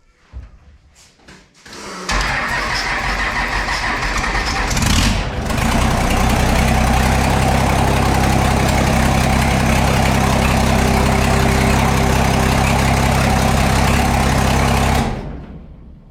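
A triple-turbo Cummins 12-valve diesel cranks after a few clanks, fires and settles into a loud, heavy, steady rumbling idle close by before cutting off abruptly near the end.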